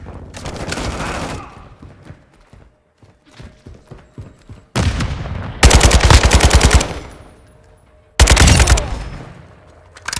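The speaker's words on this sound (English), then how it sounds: "Taking fire!" Gunfire in the Call of Duty: Modern Warfare II video game: loud, close bursts of rapid automatic fire come in several volleys, separated by quieter stretches with scattered shots.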